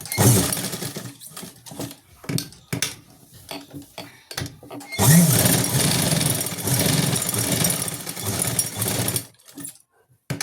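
A sewing machine stitches pant pieces in short bursts at first, then runs in a long continuous rattling stretch before stopping, close and loud, with no talk over it.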